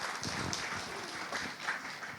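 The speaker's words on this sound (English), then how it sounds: "please give a big round of applause of National Celebration of Batik Day." A gallery audience at a National Batik Day talk show applauds, with steady, crowded clapping filling a couple of seconds and faint voices underneath.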